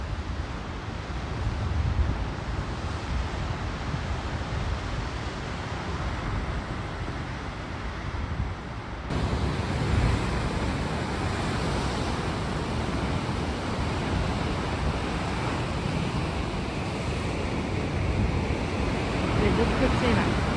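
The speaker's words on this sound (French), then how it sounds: "Ça fait un bruit sourd quand ça va dans les cavernes." Ocean surf rolls and booms into sea caves along the coast of Achill Island, a continuous deep roar mixed with heavy wind buffeting the microphone, with no voices heard.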